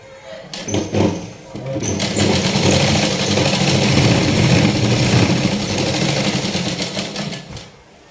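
A sewing machine runs steadily, stitching the hem of a patiala salwar with a dense mechanical whir that continues for several seconds after a brief start, with a voice talking over it.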